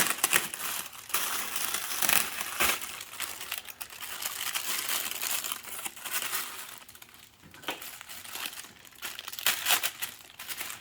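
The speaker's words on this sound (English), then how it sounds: "we'll unwrap the beautiful and sexy fuselage with the greatest pleasure" Packaging is unwrapped from the fuselage of an OMP Hobby Challenger model airplane, with close, continuous crinkling and crumpling of plastic and paper that rises and falls in bursts.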